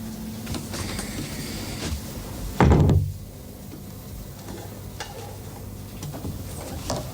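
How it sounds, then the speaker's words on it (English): A door swung shut in a quiet room, a single short solid thud near the middle with faint background rustle around it and no voices. "Close the door."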